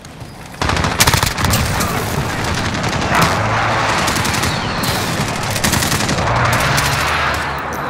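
An incoming air strike in Modern Warfare on the Hackney Yard map unleashes dense, continuous gunfire with booming impacts, a loud sustained barrage that rolls on for several seconds with no talk over it.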